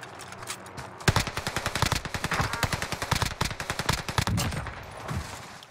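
Rapid bursts of UGM-8 light machine gun fire in a first-person shooter video game, long rattling strings of closely spaced shots loud and up front, trailing off near the end.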